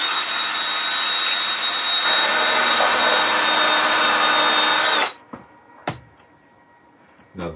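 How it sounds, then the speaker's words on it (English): A power drill boring a hole in wood for a Christmas pyramid: a loud, steady whine for about five seconds that stops abruptly, followed by a few short knocks and handling sounds. "We're going to drill another hole."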